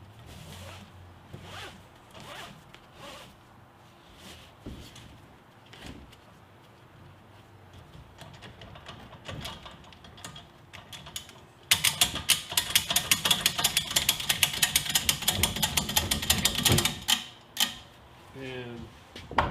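A strap is pulled through the ratchet on an appliance hand truck and cranked tight, starting with soft rustling and light clicks and then giving way to a fast, loud run of ratcheting clicks up close.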